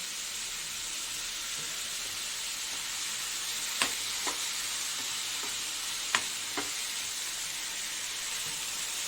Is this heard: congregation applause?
no